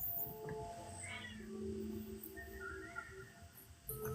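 A cat meows outdoors in freezing wind, giving two or three drawn-out, fairly faint cries over a steady bed of wind noise.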